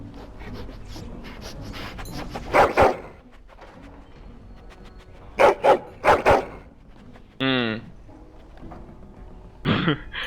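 Dog barks from a hound in the video game Dragon Age: Origins, heard as several short loud bursts in pairs spaced across the stretch, over a low game ambience, with one brief sweeping tone partway through.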